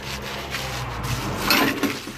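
A rag is rubbed back and forth over insulation laid on a VW T4 camper van floor, a close, soft scuffing swish in quick strokes, slightly louder toward the end.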